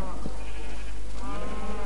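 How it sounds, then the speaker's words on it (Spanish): A cow mooing in the Minecraft video game, a single short bleating-like low call, close and clear, with no talk over it. "mira la vaca esta"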